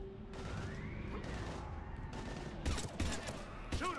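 Gunfire in the video game Mass Effect 3: a few sharp, closely spaced shots crack out near the end over a low rumbling battle backdrop, with a voice speaking earlier.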